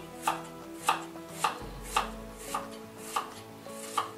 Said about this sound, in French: Ensuite, je vais couper les pommes.